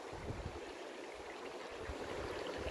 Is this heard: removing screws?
no